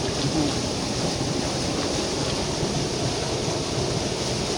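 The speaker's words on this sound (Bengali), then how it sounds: "পানির আওয়াজ কি পানি যে স্রোতটা নামতেছে এখন" Continuous rushing water of a river current in the Sundarbans, a broad steady wash like a strong current, with wind noise and no voices.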